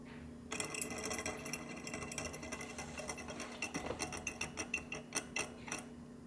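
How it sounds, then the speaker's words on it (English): A battery-powered perpetual motion machine toy from China runs close by with a steady mechanical whir and a rapid ticking, ratcheting rhythm, the clicks growing sharper and more distinct toward the end. "this, at least in theory, should be a perpetual motion machine"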